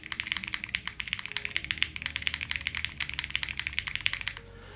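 Typing on a Choice 65 65% mechanical keyboard without keycaps, a fast steady stream of crisp clicky keystrokes, close and clear, stopping abruptly near the end.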